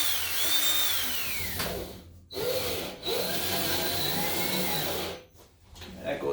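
A power driver whirs steadily with rising pitch as a screw bites into a metal stud in a cargo trailer, pausing briefly twice, close and loud with no talking.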